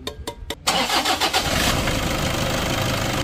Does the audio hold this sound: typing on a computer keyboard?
no